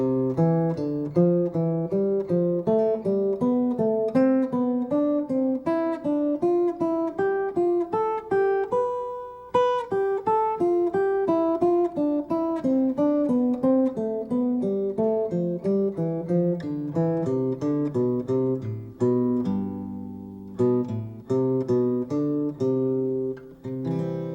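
Plucked acoustic guitar notes played as a diatonic thirds sequence, a steady stepping pattern of paired intervals climbing and descending a scale, clear and close, no talking.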